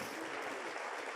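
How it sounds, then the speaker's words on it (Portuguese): Brief burst of congregation applause in a church service, dense even clapping at moderate volume with no voices. "aplauda bem forte o Rei da Glória"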